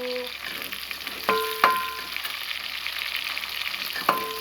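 Chilies and whole spices fry in oil in a pan for a rustic spiced cauliflower rice, making a steady soft sizzle marked by a few sharp metallic clinks of a spoon against the vessel.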